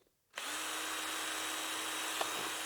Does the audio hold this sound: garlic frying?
no